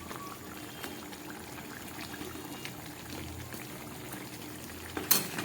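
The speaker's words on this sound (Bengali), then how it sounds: "ঝোলটা একদম ফুটে উঠেছে" Fish-head curry broth boils in a pan, a steady soft bubbling and simmering hiss, close and quiet, with a brief louder clatter near the end.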